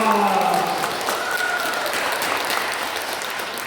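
Applause from a lecture audience in a Catholic parish hall, sustained and dense clapping from many hands that fills the whole stretch, with a few voices calling out over it at the start.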